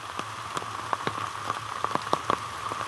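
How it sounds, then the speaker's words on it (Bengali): Fast rain falls under a bamboo grove, soft steady patter with scattered sharper drips tapping nearby surfaces, quiet and continuous without talking. "স্পিডে পানি পড়তে লাগলো"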